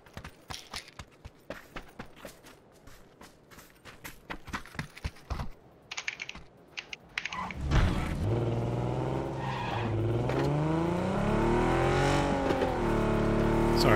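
Vehicle engine in the battle-royale game PUBG starting up after a run of rapid keyboard taps, then a loud, close, steady engine drone with rising and falling revs as the car drives off, no talk.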